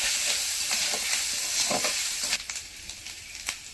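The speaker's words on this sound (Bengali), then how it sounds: "কিছুক্ষণ ভেজে নিয়েছি। এবার আমি বেটে রাখা আদা দেব।" Potatoes fry in hot oil with steady loud sizzling and stirring scrapes, then ground ginger paste goes into the pan, after which the sizzle drops and turns softer, with occasional spoon clinks.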